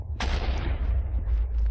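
Cannon blast in Minecraft, a single sharp boom followed by a rumbling, crackling tail that lingers to the end, loud and close.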